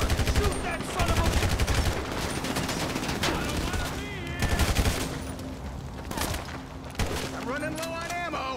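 Continuous gunfire in the Grand Theft Auto V game, with rapid bursts of automatic shots and single cracks repeating throughout over a busy street fight, while voices shout underneath.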